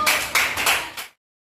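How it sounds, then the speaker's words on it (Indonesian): A classroom of children claps for a classmate, a short burst of quick, close hand claps in a few surges that stops abruptly after about a second. "Tepuk tangan untuk temannya nomor 4"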